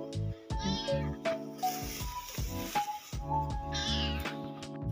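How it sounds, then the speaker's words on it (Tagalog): A cat meows several times in a street setting in South Korea, with clear repeated mewing calls spread across the stretch over a steady, busy background. "Nagulat ako guys, may pusa dito."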